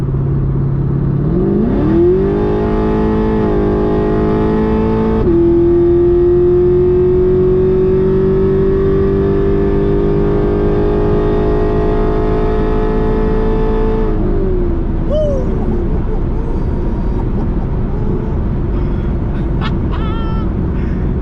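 Chevrolet Camaro V8 running on E85 fuel, revving up loudly with a rising engine note that holds a sustained high pitch for several seconds, then drops back to a rumbling idle close to the microphone.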